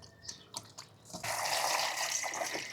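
Running water rinses pig intestines being cleaned for cooking, starting with a few scattered drips and splashes before a steady, fairly close stream of tap water pours for the remainder.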